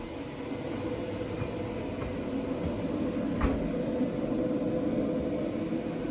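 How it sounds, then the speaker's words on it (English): Inside a double-decker train leaving Frankfurt, a steady rumble and rolling hum of the rail carriage at speed with faint rattles, continuous and even. "We took a double-decker train"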